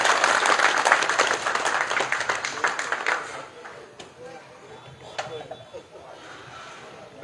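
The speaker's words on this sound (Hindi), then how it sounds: "ताली जोर से ताली बजा।" A crowd at a village gathering for a new pond project claps hard in dense, steady applause that fades after a few seconds into scattered claps, with a voice speaking over it.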